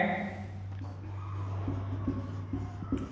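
Marker or chalk writing on a classroom board during a lesson on determinants and minors, a soft steady scratching throughout with a low constant hum underneath, with no talking.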